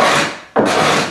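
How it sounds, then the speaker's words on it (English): A cabinet scraper drags across fiberglass on a boat deck in two quick, harsh rasping strokes separated by a brief pause, close up and loud, with no talking. "I'm using this cabinet scraper, which is a tool I got from Pygmy."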